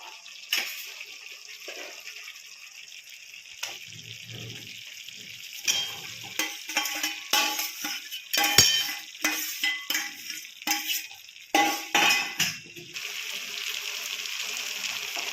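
Pointed gourd pieces dropped into oil-rich masala cooked about ten minutes, then stirred; soft sizzling broken by repeated scraping and stirring strokes that grow louder and busier midway, close by with no talk.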